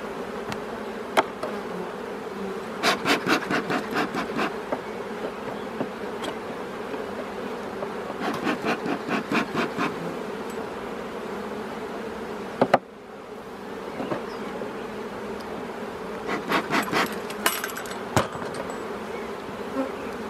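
Honeybees buzz steadily around an open hive during a weekly inspection, a dense continuous drone with occasional louder passes and light clicks of handling, no voices.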